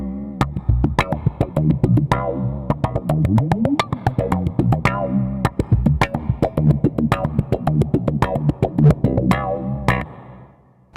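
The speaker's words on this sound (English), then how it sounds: "The one I like to play the most is called the wah effect, or the envelope filter." A SlapStick electric percussion instrument runs through a wah envelope filter, giving a busy funky groove of sharp percussive slaps with sweeping vowel-like tone, loud and close throughout before stopping near the end.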